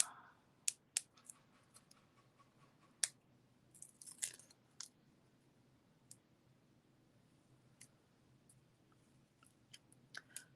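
Scissors trimming a rubber stamp, a series of sharp, close snips and clicks scattered irregularly over a quiet background, with a few small rustles between cuts.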